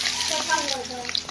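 Chopped onion sizzling in a hot pan gives a steady, bright frying hiss close by, with a voice talking over it.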